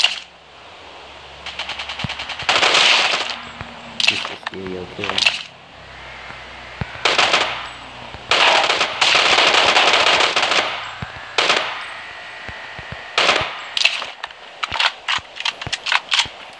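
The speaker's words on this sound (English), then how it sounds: "Oh, we got gunshots." Gunfire in the Rules of Survival battle royale game, with repeated automatic bursts and single shots spread over the stretch, mixed with softer game effects while someone talks over it.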